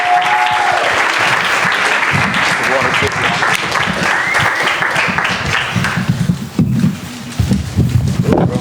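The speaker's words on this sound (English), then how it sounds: "everybody in the room, clap your hands to my brother, Steve Lobel" Room full of people clapping loudly and continuously in honor of Steve Lobel, the applause thinning toward the end as a voice begins speaking over it.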